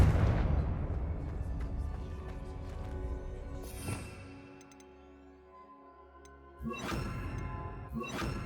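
A Confringo spell explosion in Hogwarts Legacy, a booming blast with shattering debris and rumbling tails, followed by further sharp bursts over a low game-score hum.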